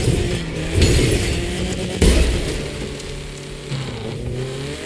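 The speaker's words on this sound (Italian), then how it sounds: "Ottima derapata." In the District Dash video game, a BMW M5 drifts with its engine roaring and revving continuously and loudly, with swells in intensity as it slides.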